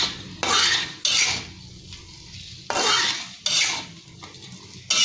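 Spring onion and shallots sauté in a pan as a metal spatula scrapes in repeated loud, rasping strokes, each burst separated by a quieter, gentle sizzle.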